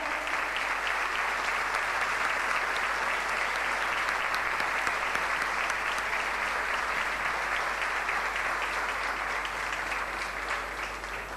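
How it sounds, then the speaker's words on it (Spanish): Sustained audience applause at a live music performance, dense and even, continuing without pause and with no talk over it. "Fuerte el aplauso."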